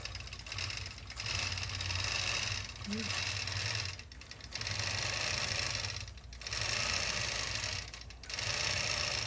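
A sewing machine stitches a quilt using an applique helper, running in steady whirring bursts of about two seconds with brief pauses between them, close and fairly loud throughout.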